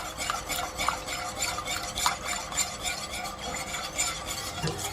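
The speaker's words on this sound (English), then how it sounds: "Now we're adding the coconut cream." Coconut cream is stirred into a thickened, reduced prawn bisque in a pot, a continuous close swishing stir with occasional light clinks of the utensil against the side over a soft simmer.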